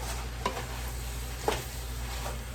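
Cabbage, bacon and onions tossed in a pan, a soft low sizzle running throughout with two or three brief scraping stirs standing out above it, close and fairly quiet.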